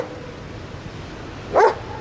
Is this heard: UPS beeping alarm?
no